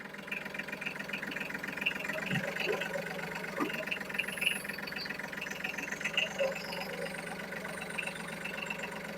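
A Yanmar AF-180 two-axle small tractor with power steering idles steadily at close range, a smooth, even, rapidly pulsing diesel chug, with someone talking over it.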